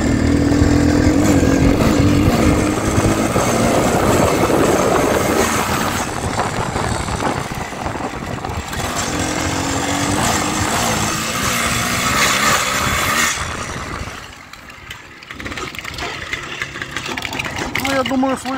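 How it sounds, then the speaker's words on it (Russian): A Minsk motorcycle engine revs hard in second gear, where its gearbox slips, a loud rough continuous roar with surges and dips, the ride jerking as gears jump, with someone speaking over it. "Вторая передача, даю газу, слушайте движок."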